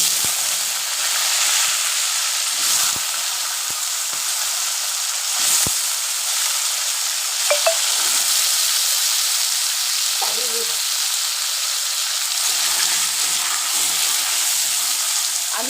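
Potatoes fry in hot oil spiced with panch phoron, giving a steady close sizzle and hiss that runs the whole time, with occasional scrapes and clinks of stirring.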